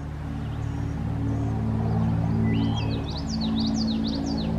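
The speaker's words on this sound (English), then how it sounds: "I do hear a wood thrush calling." Flute-like song of a wood thrush rising and falling in short phrases, heard at a distance in a forest over a steady low rumble of background noise.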